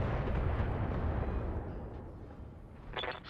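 A mech weapon shot booms in the BattleTech video game: one heavy, loud blast that rolls out and slowly decays, with a brief sharper burst near the end.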